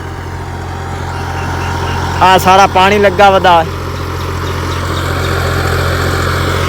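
A tractor engine runs in a waterlogged paddy field in the early morning, a steady low drone throughout while someone speaks briefly over it.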